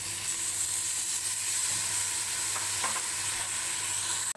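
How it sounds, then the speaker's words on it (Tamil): Tomatoes stirred into onions frying for country chicken biryani, a dense steady sizzle and hiss with soft scraping stirs throughout, close and fairly loud, ending in an abrupt cutoff. "இப்போ வந்து நம்ம தக்காளி ஆட் பண்ணிக்கலாம்."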